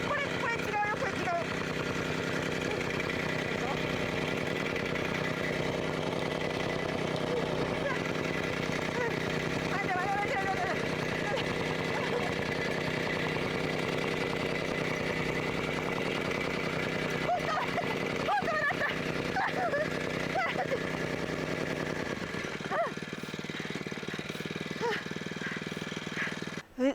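A tamping rammer runs on a mountain farm field with a steady, droning engine chatter that holds for a long stretch, and people speak over it now and then.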